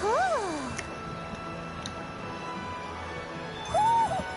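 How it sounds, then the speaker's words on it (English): A cat in Tales of Arise gives two short rising-and-falling meows, one at the start and one near the end, over a low game background with a few faint clicks. "Spotted cat here."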